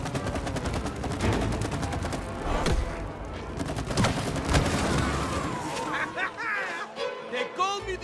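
Rapid bursts of heavy gunfire from big guns in the It Takes Two video game, loud and sustained over a game soundtrack, with sharp repeated shots that thin out toward the end.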